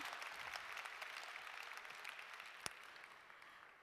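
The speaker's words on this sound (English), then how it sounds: "Warm applause to you." Warm audience applause at an online cooperation event, a steady wash of many hands clapping that holds evenly throughout, with one sharp louder clap near the end and no talk.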